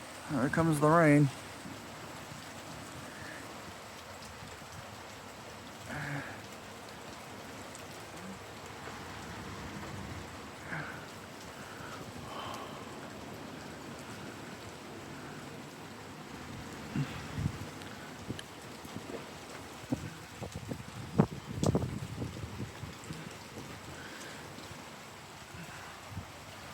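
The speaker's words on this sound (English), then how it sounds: "There comes the rain." Rain falls steadily during a thunderstorm, a soft continuous hiss with scattered louder rustles and bumps, and a brief louder burst at the start.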